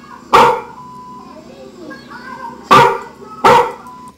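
A dog barks three times close by, one sharp bark early and two more near the end, in a room, with a person's voice heard between the barks.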